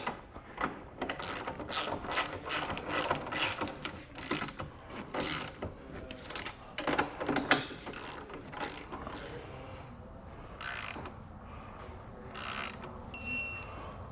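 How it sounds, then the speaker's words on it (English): A ratchet clicks in bursts while trailer hitch bolts are tightened on a 2023 Volvo bumper beam with an EcoHitch hidden receiver, the repeated close, sharp clicks coming in clusters with short pauses between them. "Now we can tighten everything down and torque it to the specifications and the instructions."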